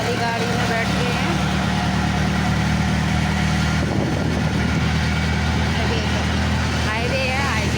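Inside a moving road vehicle, an engine drones steadily and loudly throughout, a constant broadband rumble with voices talking over it.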